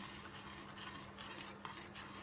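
Homemade pizza sauce made from freshly juiced tomatoes is stirred around in a pan, a faint, soft scraping and gentle bubbling over a low steady hum.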